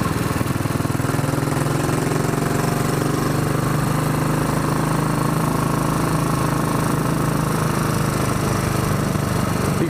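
A Royal Enfield Bullet 500 Iron Barrel motorcycle engine at speed on the road, a continuous loud buzzing single-cylinder drone mixed with wind rush, steady throughout with no voices.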